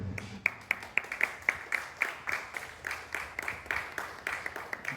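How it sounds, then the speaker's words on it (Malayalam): An audience claps for an honoured guest at a temple committee function, with quick rhythmic claps that hold an even pace throughout, fairly close. "എല്ലാവരും നല്ലൊരു കയ്യടി കൊടുത്ത് അദ്ദേഹത്തെ പ്രോത്സാഹിപ്പിക്കുക"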